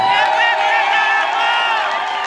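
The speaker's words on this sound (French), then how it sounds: "Applaudissez s'il vous plaît" Congolese crowd in Berlin greeting a presidential couple's entrance, a loud continuous roar of cheering, shouting and clapping with no break.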